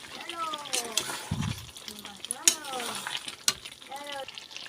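Chicken kosha cooking in oil in a covered pan, a constant close sizzle and crackle with occasional stirring scrapes, running under a woman's speech.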